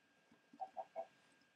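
A Minecraft chicken clucking, three short soft clucks in quick succession, faint and distant with no talk over them.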